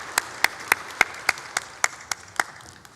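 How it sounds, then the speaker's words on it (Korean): A church congregation claps in a slow, steady beat during worship, with single sharp claps spaced about every quarter second and no voices heard. "주님의 박수 올려드립니다."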